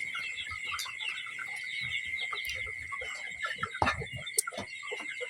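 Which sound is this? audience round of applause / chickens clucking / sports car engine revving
chickens clucking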